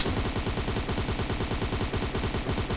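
Rapid, continuous automatic gunfire from PUBG Mobile in a Death Match, with dense bursts of shots rattling steadily throughout, loud and close with no talk over it.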